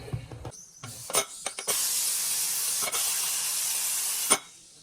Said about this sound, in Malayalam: ഈ കുക്കർ അടച്ചു വെച്ചുകൊണ്ട് ഒരൊറ്റ പിസിലാണ് ഇനി വേണ്ടത്